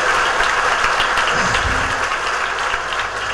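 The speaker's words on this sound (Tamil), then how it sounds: "அதுக்கே பலத்த கரகோஷம்." Loud, dense applause fills a hall at an IAS academy felicitation function honouring successful civil service candidates, steady continuous clapping from a large audience throughout.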